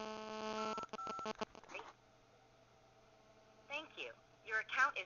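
Telephone keypad tones entering a Google Voice activation code: a quick run of loud beeps at the start, then a quiet gap and a recorded phone voice near the end.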